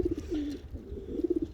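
Red racing pigeons coo inside a loft, with a few soft, close, rolling coos and short pulsed calls over a quiet background and no talking.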